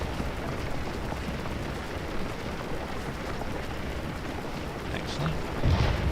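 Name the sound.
artillery fire in the video game Scourge of War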